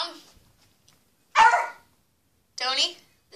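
Household dog barking indoors in a house with several dogs, two or three loud, sharp barks with pauses between them, close to the listener.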